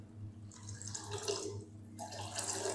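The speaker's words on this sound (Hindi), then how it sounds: "हम तकरीबन 1 कप पानी और शामिल कर देंगे।" Water pours in a steady splashing stream into lentils with chicken in a pressure cooker, close and fairly quiet, with a brief pause before the flow resumes.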